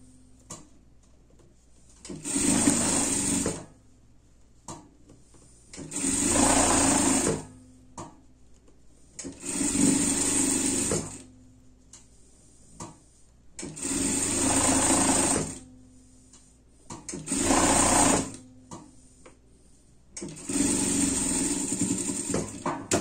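A straight-stitch sewing machine sewing a pet jacket runs in six loud, close bursts of a few seconds each, with quiet pauses between them.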